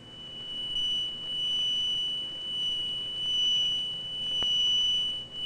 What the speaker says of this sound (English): These two speakers send out pure sound waves of identical frequency and amplitude.